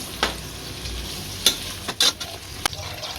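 Onion, green chili, cashews and raisins sautéing in a pan for beef biryani, a steady sizzle broken by several sharp scrape-and-stir strokes, close up with no voices.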